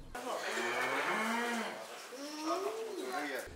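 A calf moos repeatedly at a busy livestock market in Tangier, its drawn-out calls close and loud over constant crowd chatter, with voices talking throughout.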